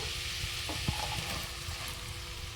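Bottle gourd stirred into frying spice paste for a lau chingri (gourd and prawn) curry, a steady close sizzle with a few light clinks and scrapes of the spoon in the pan.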